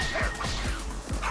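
Dogs in the video game Tokyo Jungle, a quick series of about four sharp yips and barks over a scuffling fight with crashing impacts.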